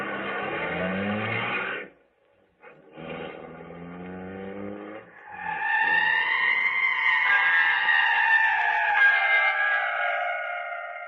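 A car in an old-time radio crime drama pulls away, its engine revving and rising in pitch as it accelerates, loud and steady after a brief pause and a few scraping, shuffling sounds.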